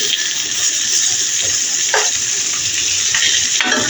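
Vegetables for vegetable rice sizzle loudly and steadily in a hot pan, with a few scraping stir-and-flip sounds over the frying.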